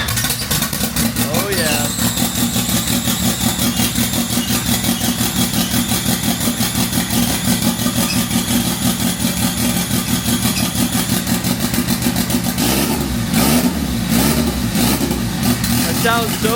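An ethanol-fueled drift car engine cranks cold in chilly weather in Brazil, then catches and revs, a loud steady rumble running throughout with a burst of revving near the end while a person talks briefly over it.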